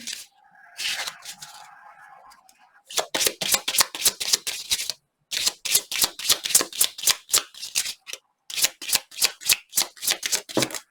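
A deck of tarot cards is shuffled by hand, a card jumping out of the deck: close, crisp riffling bursts in quick repeated rhythm after a brief soft shuffle, with short pauses between runs.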